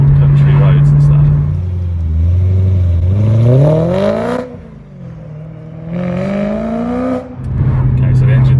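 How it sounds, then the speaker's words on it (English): A warmed-up BMW E92 M3 engine revs while driving on country roads, its close, loud drone rising and falling through two gear pulls, with a voice talking over it. "Okay, so the engine's warmed up a little bit."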